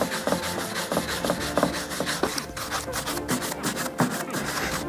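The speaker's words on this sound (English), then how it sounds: "And then we're going to buff." A rag buffing wax into restored wood, giving repeated scrubbing and rubbing strokes in a steady back-and-forth rhythm, close and fairly loud.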